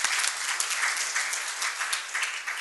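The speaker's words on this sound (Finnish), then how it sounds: "Annetaan Keski-Suomeenkin aplodit." Audience at a Finnish national conference applauds, a dense, even wash of clapping from many hands that carries on without a break for a few seconds.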